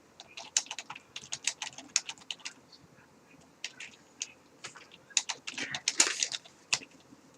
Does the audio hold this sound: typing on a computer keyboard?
yes